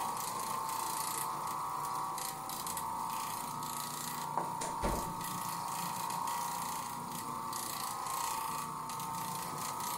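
An Oreck Orbiter carpet cleaning machine running with a cloth bonnet on carpet, giving a steady close mechanical drone with a strong sustained whine and faint rattling, continuous throughout with a brief knock midway, no talk.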